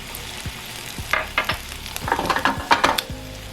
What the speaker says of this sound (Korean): 자, 야채가 어느 정도 볶아졌으면 준비했던 물을 한 컵을 넣어주세요